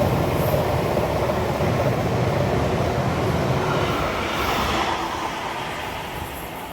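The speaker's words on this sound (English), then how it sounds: "We have another freight train passing on platform 3, the GBRF Class 66." A GBRF Class 66 freight locomotive hauls wagons through Milton Keynes Central station, a loud, steady roar of wheels and rumbling rolling stock close by, slowly easing off toward the end with no talk.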